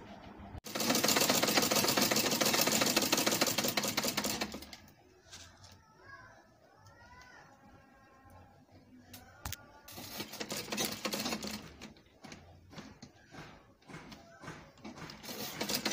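A sewing machine stitching the corners of an Ankara fabric baby puff duvet, running loud and continuous in two bursts with a quieter pause between, where faint bird calls come through.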